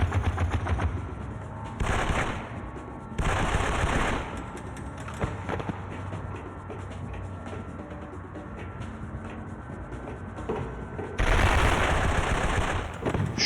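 Gunfire in the unreleased PS2 shooter 100 Bullets during a rooftop stage: repeated bursts of automatic fire with sharp shots between them, loud and close, alongside game music and effects.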